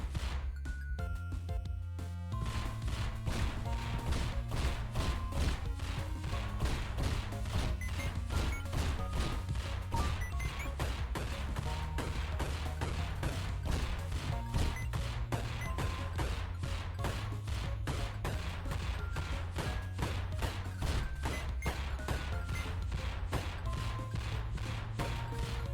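Basic weapon firing in the video game Dead Estate, rapid shots packed densely over a steady loud backdrop of game music, continuing throughout without a break.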